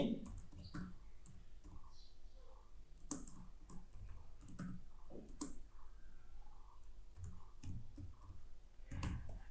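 Typing a company name on a computer keyboard during accounting software setup: a steady run of light, close key clicks in uneven bursts, with soft room noise and no talk.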